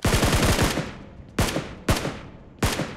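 Loud close gunfire in a battle royale shootout at Pochinki: a fast automatic burst, then three single sharp shots ringing out with echoing tails, no talk over them.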